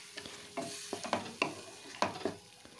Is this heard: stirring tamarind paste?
yes